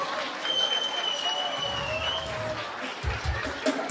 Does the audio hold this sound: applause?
yes